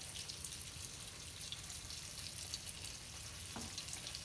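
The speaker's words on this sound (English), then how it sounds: "So as you can see, it's starting to fry nicely now." Feta cheese fries in a pan for Greek saganaki, giving a steady, soft sizzle with faint crackles, close and even throughout, with no talking.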